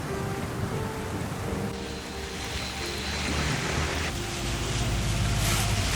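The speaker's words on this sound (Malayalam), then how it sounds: "രാവിലെ മഴയാണ്." Steady morning rain falls in a Kerala village setting, a constant broadband wash with low rumbling thunder rolling underneath and swelling slightly toward the end, with no voices present.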